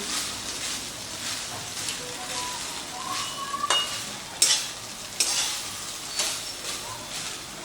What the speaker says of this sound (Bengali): এবারে ভাতটাকে সব কিছুর সাথে মিশিয়ে নিচ্ছি।